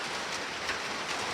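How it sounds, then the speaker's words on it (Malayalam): Rain falls steadily outdoors as a dense, even hiss of drops that holds at a constant level throughout, with no one speaking. "ഇപ്പോൾ മഴ പെയ്യാണ് ഗൈസ്."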